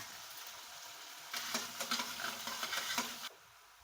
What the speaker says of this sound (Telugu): ఇవి బాగా బ్రౌన్ కలర్లో వచ్చేంత వరకు వేయించుకోవాలి